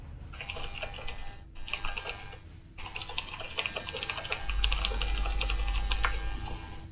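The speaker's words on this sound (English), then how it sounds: "I was typing to someone in chat." Rapid, steady typing on a computer keyboard, close and clear, with dense clicking keystrokes and a brief pause near the start over a low background hum.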